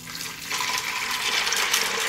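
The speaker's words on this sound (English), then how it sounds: "I pour a liter of water into the pot and wait for it to boil." Water pours steadily into a cooking pot, a liter filling it with a continuous, close splashing rush that swells after a brief quieter start and runs alone.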